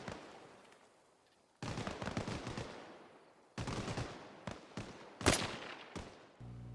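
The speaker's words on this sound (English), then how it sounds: "I'm trying to one tap them in the head with my rifle" Rifle shots ring out in DayZ, several sharp cracks spaced irregularly across the clip, each with a long echoing decay into the surroundings, one especially loud and close, no talking.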